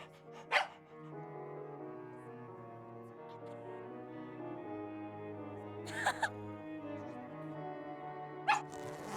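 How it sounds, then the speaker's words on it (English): A dog in the horror game Tiny Bunny gives three short, sharp barks or yelps, spaced apart over a steady hum of background music. "Dog."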